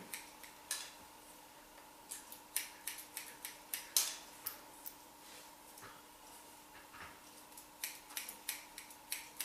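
Scissors point cutting hair for a short wispy cut with blunt bangs, a quick irregular run of crisp close snips against a faint background hum.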